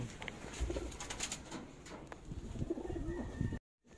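Racing pigeons coo softly inside a loft after a race, several low repeated calls close by, fairly quiet and alone without talk.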